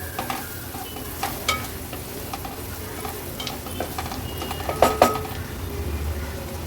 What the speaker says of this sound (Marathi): हळद आणि मसाला तेलावर छान असा परतून घ्यायचा आहे आपल्याला।